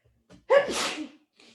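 One sudden sneeze, close and forceful, preceded by a short intake of breath and followed by a soft exhale.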